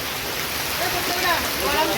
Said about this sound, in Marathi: खूप पाऊस आहे आज खूप म्हणजे खूपच पाऊस आहे